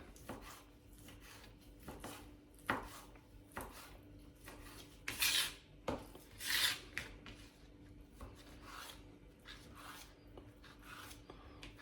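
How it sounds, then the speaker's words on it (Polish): Knife cutting sliced pork belly bacon into small cubes on a board, a run of irregular soft rasping chops and scrapes, close and fairly quiet, with a few louder strokes midway and no talk. "I boczek kroję w drobną kostkę."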